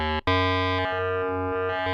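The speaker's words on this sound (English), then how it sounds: "Wave shaping distortion oscillator." Arturia MiniFreak V synthesizer playing its wave shaping distortion oscillator: a loud, steady, buzzy tone rich in harmonics that drops out briefly near the start, then holds with slight shifts in color.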